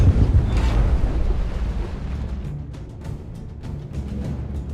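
Naval gunfire with point-detonating rounds in the WWII destroyer game Destroyer: U-Boat Hunt, a loud deep boom at the start that rolls off into a long rumbling tail.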